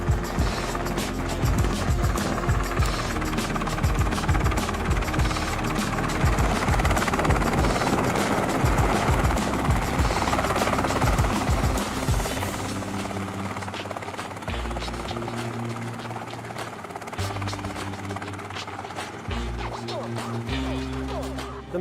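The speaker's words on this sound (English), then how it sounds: "there is no actual footage of that helicopter landing on it" A helicopter comes down onto a limousine at Desertland, its loud, continuous rotor roar filling the whole stretch close by, easing a little in the second half but staying steady.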